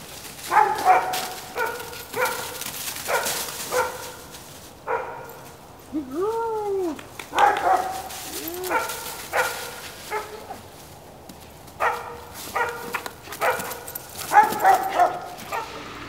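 A dog on a morning outing gives a series of short barks and yips, some with rising whine-like tones, spread across the scene at moderate loudness over faint background noise.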